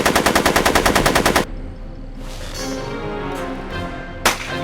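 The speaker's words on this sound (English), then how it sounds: "Are you shooting at me?" A rapid burst of machine-gun fire in Back to the Future: The Game rattles loud and close, then cuts off into echoing quiet broken by one final single shot.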